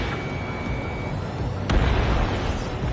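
A single sharp, close explosion in the video game Ace Combat 7 as an anti-air radar vehicle is destroyed, bursting out of a steady background rumble of combat noise.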